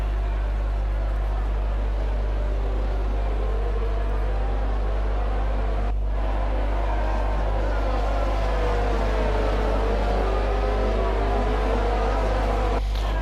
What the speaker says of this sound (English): listen to that Honda engine